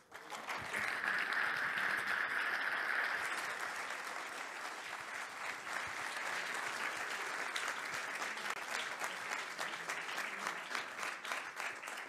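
A conference audience applauds after a talk on managing business growth, with dense, steady clapping that stays loud for about twelve seconds and eases only slightly toward the end.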